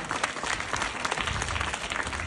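Steady, dense clapping from an audience at a motivational talk, sustained at an even level throughout with no voices rising above it.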